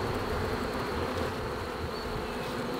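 A dense swarm of honeybees hums continuously around a beehive frame, a steady close buzzing drone throughout with no speech.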